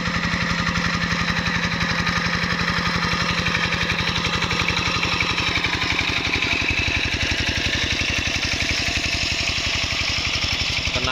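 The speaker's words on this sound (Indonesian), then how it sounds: "Ini salah satu traktor terlaris di sini" A tractor engine runs close by in a steady, loud rhythmic chug, its rapid even pulses knocking on without pause for the whole stretch, with no voices over it.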